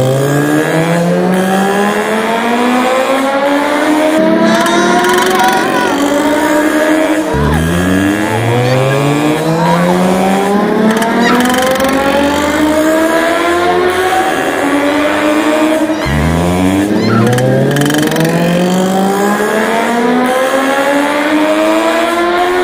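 A speeding motorbike engine revs up repeatedly through its gears, each run climbing in pitch before dropping and starting again, loud and sustained throughout with no speech.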